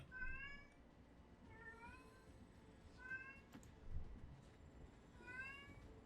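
A pet cat meows in a series of four drawn-out calls, each a few seconds apart and fairly close, over a low rumbling background of quiet game audio.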